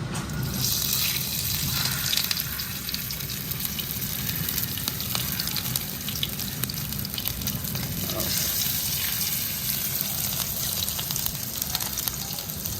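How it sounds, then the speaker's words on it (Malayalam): Prawn sticks shallow frying in hot oil in a home kitchen, a steady close crackling sizzle that runs on evenly with small pops and no voices. "അതാ എണ്ണ ചൂടായിട്ടുണ്ട്. ഇനി നമുക്ക് ഓരോരോ ചെമ്മീൻ സ്റ്റിക്ക് ഇങ്ങനെ എടുത്ത് വയ്ക്കാം."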